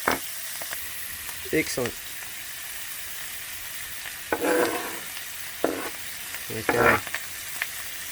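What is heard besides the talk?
stirring pork frying in a pot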